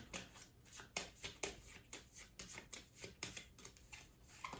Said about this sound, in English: Let's see what the tarot has to say. I'm gonna shuffle.